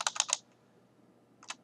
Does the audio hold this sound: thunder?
no